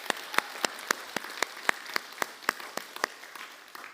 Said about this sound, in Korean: 우리 다시 한 번 더 박수 부탁드립니다.